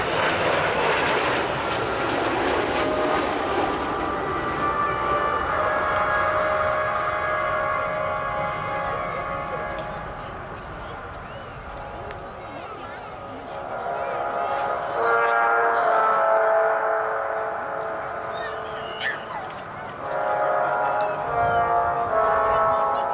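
An Avro Vulcan B2 bomber performs at the 2009 Sunderland airshow, its jet engines roaring loudly and continuously with a rising howl and swelling passes, crowd talk faintly beneath.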